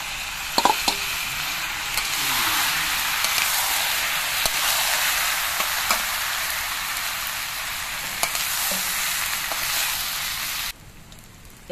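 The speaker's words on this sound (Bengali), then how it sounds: "মিনিট পাঁচেক কষানোর পর এবার আমি দিয়ে দিচ্ছি এর মধ্যে ডাল।" Washed lentils go into a hot pan of fried spices for Bengali khichuri, a loud steady sizzle and frying hiss with a few stirring clinks, before cutting off abruptly near the end.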